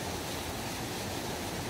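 Water flows in a stream at the head of a forested mountain valley beside a campsite in Pocheon, a steady even rush filling the whole clip with no voices.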